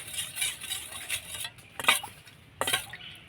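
Orange juice mixed with orange food colouring is stirred in a bowl for a Kamla bhog sweet, giving soft scraping swirls and two brighter clinks of a spoon against the bowl, close and alone.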